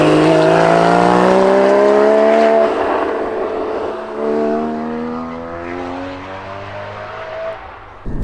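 The naturally aspirated engine of a Porsche Cayman GT4 pulls loudly from inside the car, its rising revving tone climbing, then dropping briefly at a gear change before climbing again.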